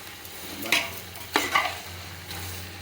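Onions fry in a pan with a handful of salt for a chicken aloo korma, a faint steady sizzle broken by a few sharp stirring scrapes close by.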